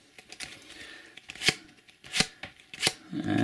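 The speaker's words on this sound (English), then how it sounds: "So we shall just flick through them" Match Attax SPFL 2016-2017 trading cards are flicked through by hand in a run of crisp card snaps and flutters, with three louder flicks standing out close up.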